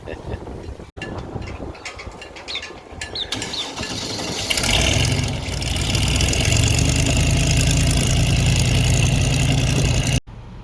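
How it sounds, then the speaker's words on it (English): A big airboat engine starts up and settles into a loud, steady roar that runs for several seconds, with talking and crowd noise heard before it fires. "It's a nice big engine, eh?"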